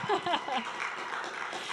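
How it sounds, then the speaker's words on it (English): An audience at a 1 Million Cups Bismarck Mandan community gathering breaks into a soft, spread-out round of applause, fairly faint, after a brief bit of voice at the start. "I didn't really set you up for a round of applause there, so let's have one."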